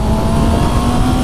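A 2019 Honda CB650R motorcycle engine revs steadily at high pitch, loud and close, a continuous mechanical howl with no voices.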